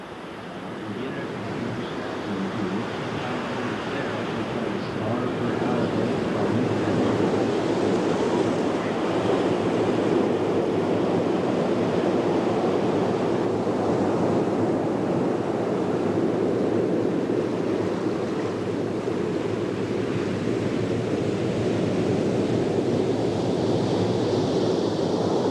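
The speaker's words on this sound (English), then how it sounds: "On the first wave, we have Tom Curren" Ocean surf rolls and roars steadily at the 1986 Stubbies Pro surfing contest in Oceanside, a broad wash of breaking waves and wind with a faint crowd-like murmur underneath.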